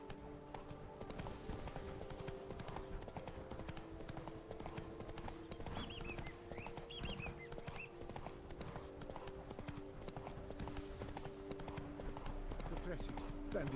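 Roach, a horse in The Witcher, gallops with steady rapid clip-clop hoofbeats throughout, set against music and game ambience, with a brief whinny-like tone partway through.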